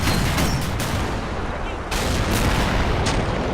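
Sustained gunfire rattles through a Men of War: Assault Squad 2 battle, dense loud shots and bursts overlapping continuously with heavy low booms underneath.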